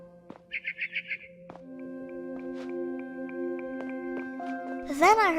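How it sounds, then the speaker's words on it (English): Barn swallow in What Remains of Edith Finch, a quick run of several bright chirps early on, then quieter sustained tones with a voice-like sound near the end. "Then I heard chirping outside my window. It was a barn swallow going back to her nest."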